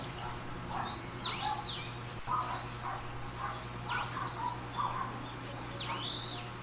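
Repeated sweeping bird chirps come in short bursts every couple of seconds over a low steady hum, with faint insect-like buzzing underneath.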